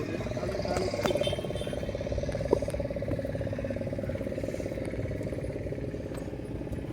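A motor boat engine drones steadily on the Sharavathi backwaters in Karnataka, a constant low hum with a faint putter, close and unbroken for the whole stretch.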